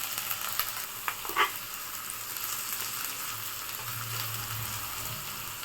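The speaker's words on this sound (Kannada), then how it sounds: "ಹಸಿಮೆಣಸಿನಕಾಯಿ, ಕರಿಬೇವಿನ ಸೊಪ್ಪು ಎಲ್ಲನೂ ಹಾಕ್ಕೊಂಡು 1-2 ನಿಮಿಷ ಫ್ರೈ ಮಾಡ್ಕೊಳ್ಳಿ" Onion, garlic, green chillies and curry leaves fry in a pan with a steady, moderate sizzle, broken by a few brief clinks and one sharper stir early on.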